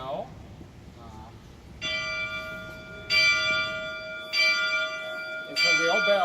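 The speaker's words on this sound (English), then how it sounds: "We have train bell." A real train bell on a theatre organ rings four times in spaced, clear metallic strikes, each note sustaining until the next, after a few quiet bits of speech at the start.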